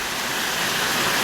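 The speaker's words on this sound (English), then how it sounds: "Okay, I'm going to go in with some water here." Water poured into a pan of venison gravy roux made with flour, a steady broadband splashing rush that fills the short moment close and loud, with no voices over it.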